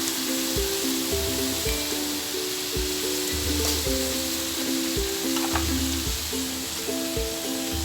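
Papaya for Betawi sayur godog sizzles in a hot pan, a steady, even frying hiss that runs throughout beneath a soft background melody.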